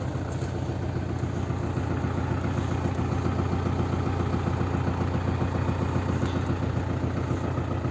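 A Yuto 804 tractor engine runs steadily at night during wheat seeding with a SZ 3.6 seed drill, a loud close continuous rhythmic diesel chug with clatter throughout.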